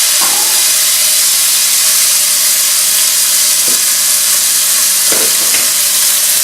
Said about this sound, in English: And now I'm going to put my piece of tuna in this very hot.